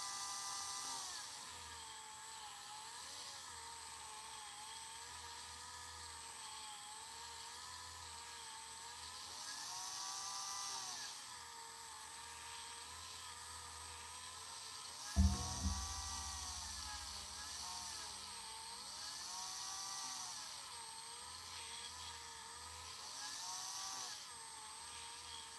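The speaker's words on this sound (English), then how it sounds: "I'm sitting here sanding these and doing stuff." A small rotary tool sands miniature beastman model parts with a faint, continuous high whine that dips and swells in pitch, with one brief louder knock midway through.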